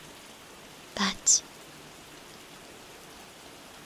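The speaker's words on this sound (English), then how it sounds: "The rain sounds gentle and nice." Gentle rain falls as a soft, steady hiss throughout, while a voice briefly speaks over it near the start.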